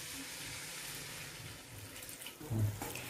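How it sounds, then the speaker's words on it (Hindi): Milk pours into a warm pan holding khurchan, a steady liquid gush and splash that swells into a louder burst near the end, heard without any talk. "इसमें अपना आप मैं दूध डालूंगी।"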